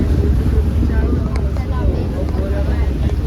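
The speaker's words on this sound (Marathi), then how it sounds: "आमची बोट चालू झालेली आहे" A passenger boat's engine drones low and steady at the start of a trip from Mumbai to Alibag, mixed with wind buffeting the microphone and faint voices in the background.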